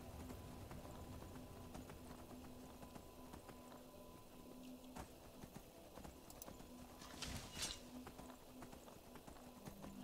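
Quiet, regular hoof clops of a horse in Skyrim, trotting steadily over a low ambient hum, faint and somewhat distant, with a brief brighter rustle near the end.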